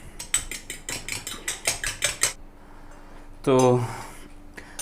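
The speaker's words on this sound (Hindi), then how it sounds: "अंडा हम उसको जो है फेंट लेते हैं" Egg being beaten with a utensil in a bowl, a rapid run of about a dozen sharp metallic clicks and scrapes, followed by a short spoken word.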